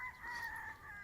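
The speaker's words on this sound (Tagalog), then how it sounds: "Ito ang mga stag namin dito, yung mga hindi pa nakahanda." Young gamecock roosters (stags) crowing on a farm: one sustained, fairly quiet crow lasting about a second, with a steady tonal call over a faint background.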